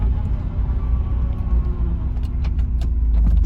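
A Toyota MR2 with a swapped Honda K24 engine driving, a steady low rumble heard from inside the car, with a few faint clicks and rattles near the end and no talk.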